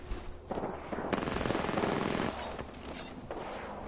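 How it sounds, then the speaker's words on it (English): Distant automatic gunfire from Spitfire and Peacekeeper guns in a video game shooting match, sustained rapid bursts that rattle faintly and continuously with a few sharper cracks standing out. "You hear the gunshots? I hear a Spitfire. And a Peacekeeper."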